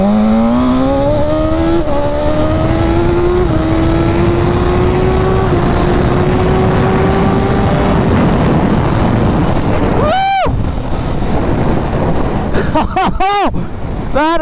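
A BMW S1000RR sportbike pulls hard in second gear at a racetrack, its engine note rising steadily under heavy wind noise before brief sharp revs near the end.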